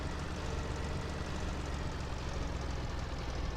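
Tractor engine in Farming Simulator 17 running at a steady low idle-like drone, continuous and fairly quiet with no talk over it.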